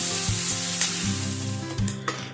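Onions frying on high flame in a pan for brinjal kaju masala, a steady loud sizzle with occasional stirring scrapes, no voices over it.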